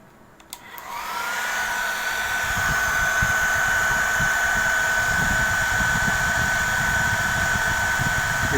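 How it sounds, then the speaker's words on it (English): A hair dryer switches on and blows warm air steadily at close range, a loud continuous whir with a high motor whine that holds level for several seconds after starting up. "For increasing temperature, I am using a warm air from the hair dryer."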